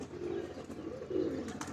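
Pigeons coo softly nearby, with a couple of low, rolling coos over faint background hum.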